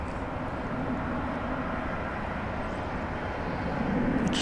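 An American Eagle CRJ 701 regional jet at DFW Airport at night, heard as a steady, fairly distant engine roar that holds even throughout and swells slightly near the end, with no voices.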